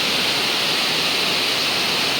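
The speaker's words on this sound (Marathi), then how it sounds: "इथे पाण्याचा जोरात आवाज आहे" Loud, rushing water from a waterfall, a constant broadband roar with no breaks, close and overwhelming throughout.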